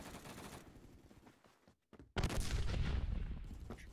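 Video game gunfire in a competitive team match, shots punched through a wall: dense rapid bursts fill the last two seconds loudly after a brief silent gap, with busier firing and ambience earlier.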